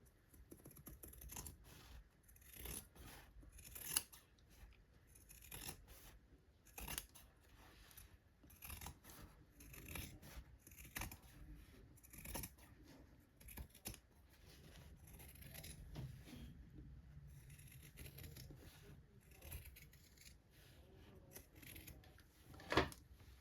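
Scissors trim fabric for a tote bag in many quick, faint snips, irregular and close, with light handling noise between cuts.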